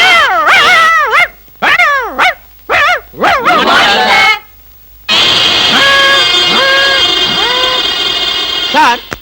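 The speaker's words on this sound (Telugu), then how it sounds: "కుక్కలు అరుస్తున్నారేంటి?" Dogs bark, yelp and whimper in a comedy film scene, with a run of sharp, rising and falling cries followed by a longer whining stretch. Voices are mixed in close and loud.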